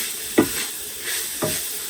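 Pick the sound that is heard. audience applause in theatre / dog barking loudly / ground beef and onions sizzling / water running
ground beef and onions sizzling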